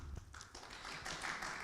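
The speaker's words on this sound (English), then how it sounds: "Oh, he gets the clap." Brief scattered applause from a conference panel audience in London, a few light claps and taps heard fairly faintly in a room.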